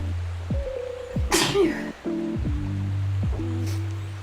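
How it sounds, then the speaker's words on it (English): A single sharp human sneeze bursts out near the middle, loud and close, over a steady tonal music background with no talking. "Need to sneeze."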